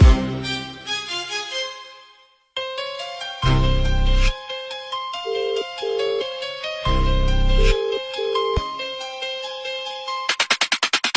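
A phone ringtone plays a bright melodic electronic tune over and over, loud and close, going unanswered, with a pause near the start and a rapid beeping burst at the end.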